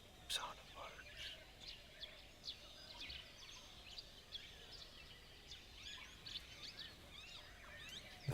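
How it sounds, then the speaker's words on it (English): Faint, scattered bird chirps and short calls drift in from a distance over a quiet outdoor background in Bandhavgarh National Park, India, with no clear rhythm. "Sound of birds."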